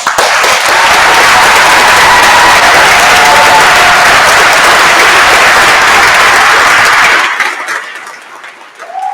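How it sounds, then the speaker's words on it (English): Loud, dense applause from a large crowd at a university graduation ceremony fills the space, then fades out toward the end. "I think they deserve one more round of applause."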